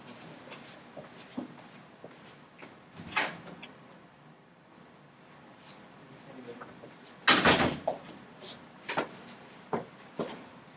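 A door is answered, opened and closed during a precalculus lesson, giving a few scattered knocks and thuds, with one loud bang partway through followed by smaller clunks, over quiet room noise.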